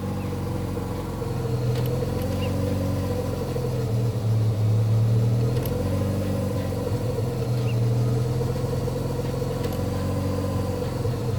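A Mazda RX-7 FC with a street-ported rotary engine idling with a brake booster vacuum leak, a steady lumpy rumble with a wavering low tone that surges periodically, close and continuous, no speech.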